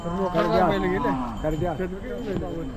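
Cattle, including race bullocks at a weekly market in Murgud, low and moo close by in drawn-out, wavering calls, with some background noise around them.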